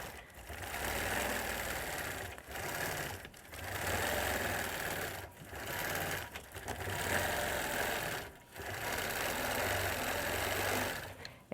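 A sewing machine quilting stitch-in-the-ditch around a tree shape on a table runner, running in steady loud bursts of fast stitching with short pauses between runs.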